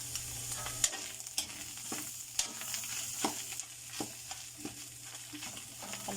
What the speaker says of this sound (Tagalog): Haluin natin ng haluin.